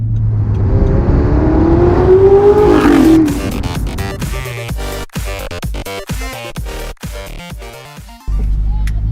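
An Audi R8 V8 supercar engine roars loud and close under hard acceleration, its pitch climbing steadily before the note breaks into choppy, gear-shift-like bursts and drops away near the end.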